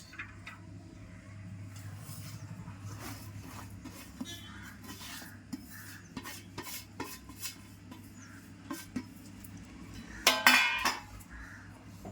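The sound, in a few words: mixing ingredients with dried coconut in a pot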